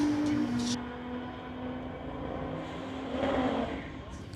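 A 2021 Nissan at a street-legal drag race runs in the TCS lane, its engine a low distant drone under an announcer's voice, with a rising surge of roar near the end.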